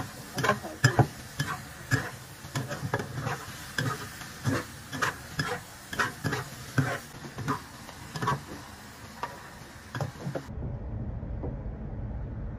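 Food stir-fried in a wok with water and soy sauce added, with rhythmic spatula scrapes and clanks over a soft sizzle, close and moderately loud. The stirring stops near the end, leaving only a low hum.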